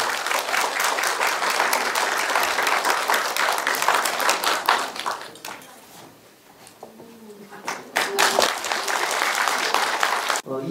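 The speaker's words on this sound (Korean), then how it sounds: "자, 큰 박수 부탁드리겠습니다." Audience applauding during a Baruge Salgi Movement Sejong Hansol-dong committee chairman's inauguration ceremony, loud sustained clapping that thins to a brief lull around the middle before swelling again, with faint voices underneath.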